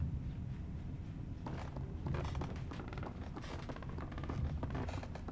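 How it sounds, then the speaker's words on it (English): Slow wooden creaking and mechanical groaning sound over a dense, rumbling ambient drone in the dark horror game Little Nightmares, with faint footsteps, moderately loud and steady throughout. "this shit is so creaky."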